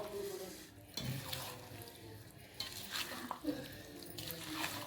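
Lemon pickle is stirred with a spoon, giving soft, close scraping and swishing strokes at a faint level, with someone speaking briefly.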